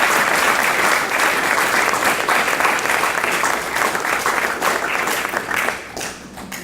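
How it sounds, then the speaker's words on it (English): A graduation ceremony audience applauds steadily for students at an Academy of Finance graduation, a dense and sustained wash of clapping that thins and fades near the end. "Let's give them a round of applause."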